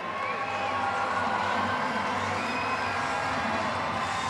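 A home-state crowd at the 2025 Bassmaster Classic semi-final weigh-in cheers for Texas angler Lee Livesey, a dense, sustained roar of many voices filling the whole stretch.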